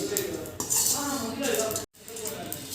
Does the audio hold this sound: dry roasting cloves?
yes